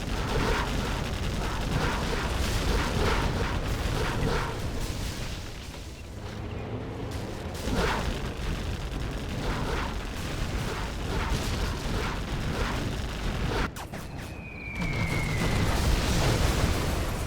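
Poppy Bomb strikes in a video game strategy match set off dense rumbling explosions and crackling gunfire-like blasts that roll on throughout, loud and continuous with a brief lull, no voices.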